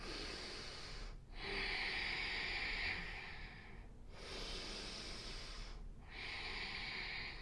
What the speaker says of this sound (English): Take 2 ujjayi breaths here.